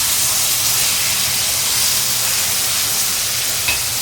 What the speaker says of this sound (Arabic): هنزل عليه بقى بكوبايه الميه المغليه